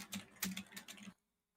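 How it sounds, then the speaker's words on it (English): Someone typing on a computer keyboard, a quick close run of clicky keystrokes for about a second, then stopping into near silence. "I hear somebody typing."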